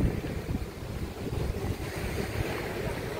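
Rough surf at Wiljurich Beach Resort in Oton, Iloilo rolls and washes in a low, churning roar, mixed with wind buffeting the microphone, continuous and fairly faint with no talk.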